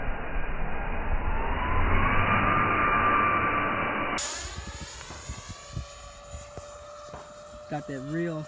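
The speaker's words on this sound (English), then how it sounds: "Got that real jet sound." An RC model jet airplane flies past, its engine a rising whoosh and whine that swells and then fades as the recording shifts to a thinner, brighter tone with scattered clicks and faint handling noise.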